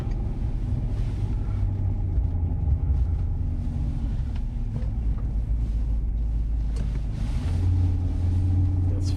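A VW Touareg V10 TDI diesel SUV idles with a steady, deep low rumble as the steering is turned from lock to lock. The sound stays even throughout and is heard from inside the vehicle, with faint creaks and no talking.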